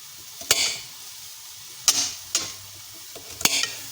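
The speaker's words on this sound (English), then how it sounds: "There's my sizzling pan if you're interested." A pan sizzles on the stove during a quick home-cooking session with chopped carrot, broken by several sharp clanks and scrapes of stirring over a steady, close frying hiss.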